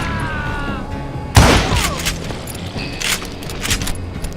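Gunfire in the Western shooter Call of Juarez Gunslinger: one heavy, booming shot with a sharp crack, followed by quieter scattered shots and clatter. Game voices are heard beforehand.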